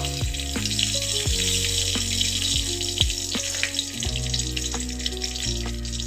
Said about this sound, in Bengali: এখানে তেলের মধ্যে আমি দিয়ে দেবো এবার তেজপাতা গোটা গরম মশলা